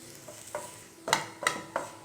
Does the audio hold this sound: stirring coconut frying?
yes